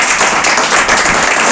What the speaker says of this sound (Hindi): उसके प्यार के लिए एक जोरदार ताली बजा दें।